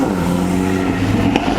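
A V8 Jaguar F-Type drives past at a car show, its engine a loud, close, steady rumbling drone with a slight rise in pitch over a brief moment.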